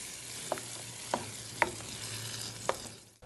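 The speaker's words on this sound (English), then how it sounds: "we're going to take our pureed San Marzano tomatoes and we're going to add that right to the pan. We're going to give it a quick stir" Pureed San Marzano tomatoes being stirred in a hot pan: four soft, spaced spoon scrapes and taps over a faint, steady low hum, quiet and close, with no voices.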